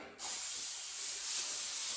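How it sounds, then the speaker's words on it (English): Cooking spray hisses onto a cookie sheet in one sustained close burst that starts abruptly after a brief quiet moment and continues steadily to the end. "I got a cookie sheet here, and I spray it"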